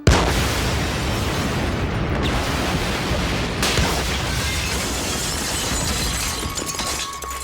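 Bomb blast from a Doctor Who episode: a sudden loud boom at the start followed by a sustained roar of rumbling debris and noise that stays loud and steady.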